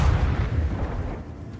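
A God's Bane laser fires in the space combat of Warhammer Rogue Trader, a dense, rumbling low-heavy blast that rolls on and slowly fades, with no talk over it.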